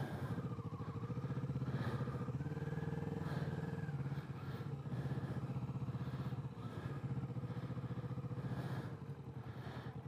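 A motorcycle engine idles with a steady, faint, even putter at a motorcycle rally in Calamocha, running continuously throughout with no clear talk over it.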